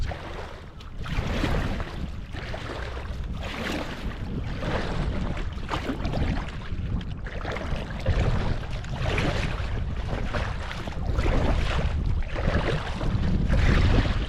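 Waves on Loch Tay slap and wash against a small boat underway, a continuous close rush of water mixed with heavy wind buffeting, no voices.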